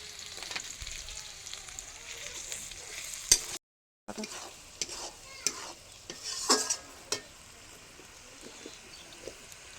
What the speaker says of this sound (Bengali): কপি পাতা বাটা ভাজা হয়ে গেছে